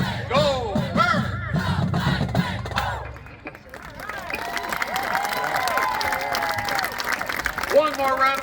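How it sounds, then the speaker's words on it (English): A crowd at a band showcase applauds and cheers the Heidelberg University Marching Band. A voice speaks over a low hum first, then a dense wash of clapping and shouts swells and holds, loud and sustained. "One more round of applause, please, for the Heidelberg University Marching Band"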